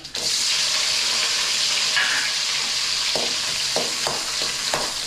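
Onion and curry leaves fry loudly in a pan, a dense close crackle and hiss with a few utensil clinks toward the end, no voices.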